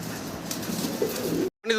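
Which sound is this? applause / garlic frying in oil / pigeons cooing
pigeons cooing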